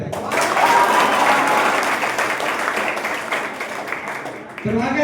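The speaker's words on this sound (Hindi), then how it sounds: "एक बार जोरदार ताली हो जाए।" A burst of loud applause from a crowd at a Teachers' Day event in Patna, India swells and then slowly fades, with a voice cutting in at the end.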